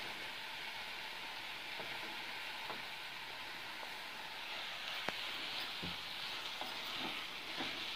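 Coriander rice being stirred in a pan over low heat, a soft steady sizzle with faint scraping and light clinks of the spoon scattered throughout, close and quiet.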